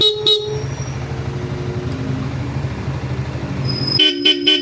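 Loud Bosch Europa electric horn blasts on a Honda ADV350 motorcycle at the start and end, two short toots then a cluster of quick honks, with an engine rumble running steadily in between.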